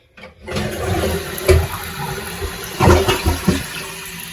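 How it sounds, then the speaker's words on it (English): A newly installed one-piece toilet flushing: a gushing rush of water with swirling surges and gurgles, fairly close and loud, continuing as the bowl drains and refills. "We'll give it a few more flushes and see what happens."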